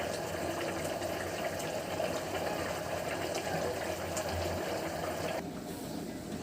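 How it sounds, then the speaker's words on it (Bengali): Chicken curry gravy boils in a covered pot, making a continuous, close, watery bubbling rush that drops off sharply near the end. "ঝোলটা কিন্তু খুব সুন্দর করে ফুটতে শুরু করেছে"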